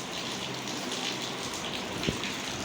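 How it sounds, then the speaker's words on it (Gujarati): Light rain falls in a steady, soft patter of drops, with one slightly louder drip or tap standing out near the end. "અમારા અહીં વરસાદ ધીમો ધીમો ચાલુ થયો છે, પણ અત્યારે ધીમો ધીમો છે."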